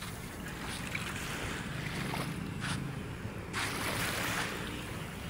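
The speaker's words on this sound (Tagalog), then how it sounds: "Ayan, gumagalaw yung ating dagat." Sea waves moving at Manila Bay, a continuous surging wash with two swells rising louder partway through, heard together with gusty wind buffeting the microphone and no talk.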